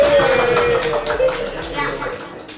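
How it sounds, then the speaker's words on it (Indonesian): Scattered hand clapping from a classroom audience, fairly close and steady, mixed with children's voices and chatter over it. "tepuk tangan dulu"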